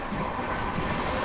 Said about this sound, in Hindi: parcel train